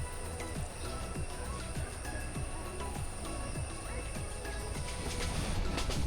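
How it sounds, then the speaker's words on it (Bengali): A passenger train running from Dhaka to Jamalpur through rural country, heard from inside a carriage: a steady rumble with regular rhythmic wheel clacks over rail joints and a faint high whine. "এখন ট্রেন ঢুকে গেছে গ্রামীণ এলাকায়।"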